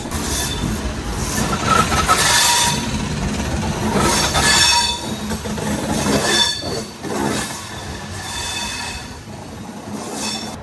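An Amrit Bharat Express train rumbles and clatters nearby at a main railway station, wheels squealing at times, loud and continuous with no talking.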